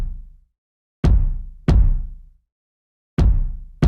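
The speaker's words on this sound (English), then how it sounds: "So first I have the wide kick" Wide kick drum sample, EQ'd and compressed, from a dubstep production: four deep, punchy thumps in an uneven pattern with short decaying tails, loud and dry with silence between hits.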